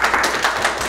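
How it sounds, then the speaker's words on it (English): Council members clap for the newsletter at a city council meeting, a short burst of quick, close, crowded hand claps under a steady rhythm with no talk. "Let's clap about the newsletter."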